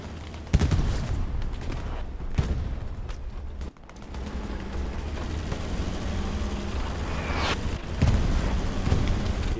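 Tanks trading cannon fire in a World War II tank game with a new Panzer, heavy booms and blasts cracking out several times over a dense rumble of battle, loud and close, no voices.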